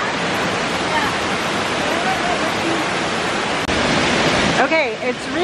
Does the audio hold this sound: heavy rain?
yes